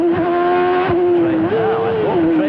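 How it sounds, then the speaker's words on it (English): Michael Schumacher's Formula One car screams past on the circuit, a loud steady high engine note that drops sharply at each gear change and climbs again, with a commentator talking over it. "Listen to Schumacher work the shifter around this circuit."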